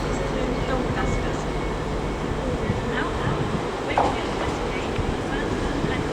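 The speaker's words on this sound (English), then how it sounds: "Off goes 800-113, operating the 1515 LNER Azuma service to London King's Cross" An LNER Azuma train, unit 800-113, departs Leeds station with a steady, loud rumble and whine under a continuous blanket of noise, with faint clicks and clunks.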